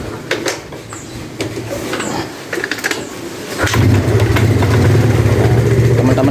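A Yamaha Mio scooter engine with a faulty carburetor starts up, sputtering and uneven at first before settling into a loud, steady idle close by, with no talk over it.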